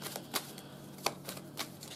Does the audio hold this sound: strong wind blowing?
no